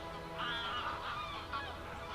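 Wild geese honking at a pond used by migrating birds, a cluster of overlapping nasal calls carrying over steady background noise, moderately distant and continuous through the short stretch.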